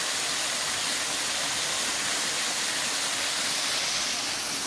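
A small waterfall on a river in a park, heard from an overlook above it: a steady, broad rush of falling water runs unbroken for the whole stretch, with no voices.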